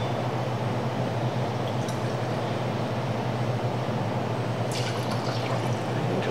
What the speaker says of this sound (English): we are gonna get 2 ounces of our Millstone Rye Sour Mash Whiskey